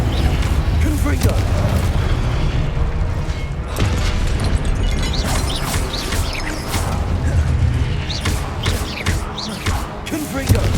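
Confringo fire spells in Hogwarts Legacy burst again and again in loud, booming blasts with crackling impacts, mixed with other combat noise and occasional voices.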